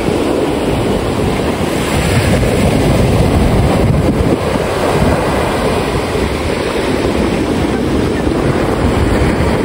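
Steady surf washing onto the beach at Bilison, Antique, with continuous wind buffeting the microphone, loud and unbroken throughout with no voices.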